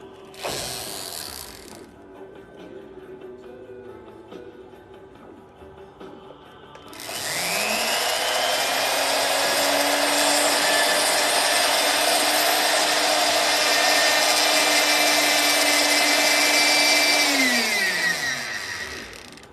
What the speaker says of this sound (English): change it over to just a slightly larger ball burr